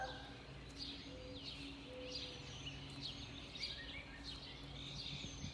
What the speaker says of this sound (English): I like hearing the noises in the morning, the birds and stuff